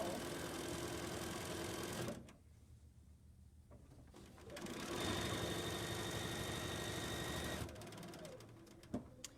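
A fast sewing machine back stitches across the bottom of a fabric face mask, running steadily, pausing briefly, then running again at close range.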